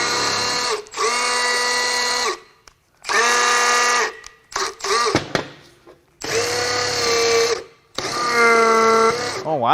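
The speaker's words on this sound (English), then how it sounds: "Oh wow, that's a strong pump." A strong pump runs in loud whirring bursts of a few seconds each, stopping and starting several times with clatter and noise in the gaps.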